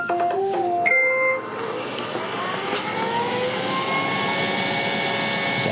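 Neato Botvac robot vacuum powering up, a few short melodic start-up tones followed by a rising motor whir that settles into a steady hum as the side brush begins spinning, close and fairly loud, no talk.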